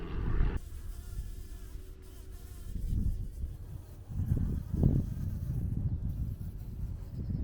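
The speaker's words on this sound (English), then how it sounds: "there's a big bee in there. It's a queen and its disciples." A large queen bee and other bees buzzing in loft insulation, a continuous low droning hum that swells and fades over several seconds, fairly close.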